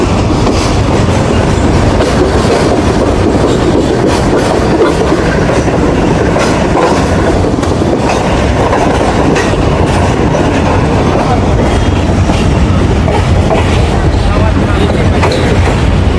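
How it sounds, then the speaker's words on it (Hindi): A Pakistan Railways passenger train on the Lahore to Peshawar line moves slowly on a rainy day, its wheels rumbling and clattering steadily over the track as a dense, loud, continuous roar. "अब आहिस्ता आहिस्ता से आगे बढ़ रही है"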